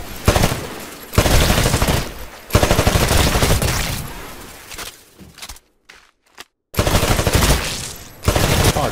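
Bursts of automatic rifle fire from the Titanfall game rattle loudly at shooting-range targets, several sustained volleys broken by short gaps and a brief stretch of near silence.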